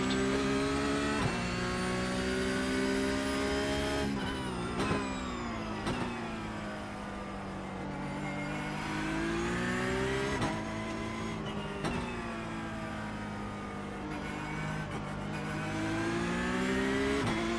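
Porsche Cup race car engine at Sebring, loud and close, revving and shifting through gears with rising and falling pitch and sharp gear-change breaks, heard alone.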